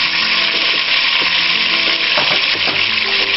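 Beef cheeks sear in a frying pan with a loud, dense, close sizzle that crackles continuously without pause, with no voices over it.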